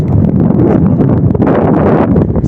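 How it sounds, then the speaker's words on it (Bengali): Strong wind on a seaside sandbank roars and buffets the microphone continuously, a loud, low rumbling gust noise with no letup. "বুঝতেই পারছি আজকে প্রচুর বাতাস"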